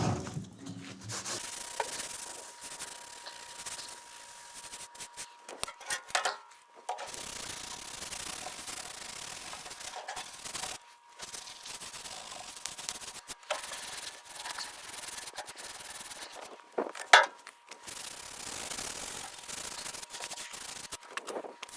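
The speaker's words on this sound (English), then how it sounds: "let's just give this fur tan a little scrub to get off the excess there" Steady scrubbing of a metal gas bottle box surface to remove excess Fertan rust converter, a continuous close rubbing and sanding-like sound with brief pauses and a sharper scrape near the end.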